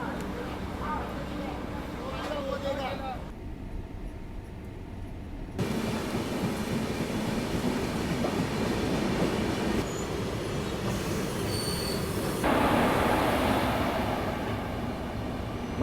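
Barmer - Yesvantpur AC Express train running: steady rumbling wheels and clattering track noise from onboard, with a sudden louder roar partway through and a brief squeal, as a person talks over the train.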